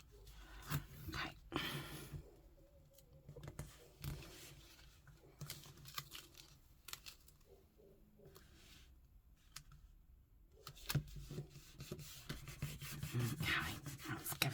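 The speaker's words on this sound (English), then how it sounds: "let's give that a jolly good rub down" Paper on a lapbook journal cover is rubbed down by hand, giving soft, irregular scratchy rubbing strokes that are close but quiet, with brief pauses between bursts.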